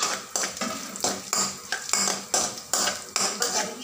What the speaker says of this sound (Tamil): ஃபஸ்ட்டு நம்ம தனியாவை போட்டுக்கலாம்.